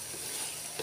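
Rice for biko stirred in a hot pan, a faint soft scraping and sizzle, brief and quiet with no voices.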